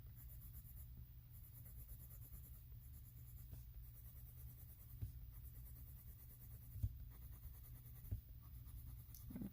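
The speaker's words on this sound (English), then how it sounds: "I'm coloring in these little rectangles here." A colored pencil scratches back and forth filling in small rectangles on a coloring book page, a faint, close, dry scribbling with a few light taps, steady and alone.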